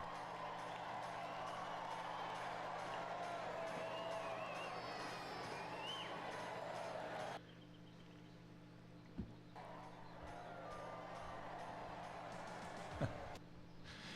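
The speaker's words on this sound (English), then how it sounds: "Listen to the crowd." A large crowd at a political rally in a high school gym in Vancouver, Washington, roars and cheers as it does the wave, a broad rising swell that cuts off abruptly halfway, followed by quieter murmur and a couple of thumps.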